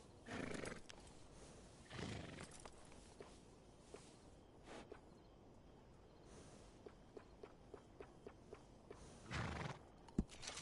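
A horse in a video game snorts and whinnies a few times amid soft hoof clops and shuffling during grooming, fairly faint with quiet gaps between.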